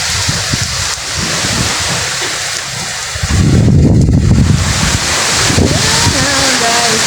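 Strong typhoon wind and rain buffeting the microphone: a loud, continuous roar and rush that surges harder midway, with a voice speaking briefly over it.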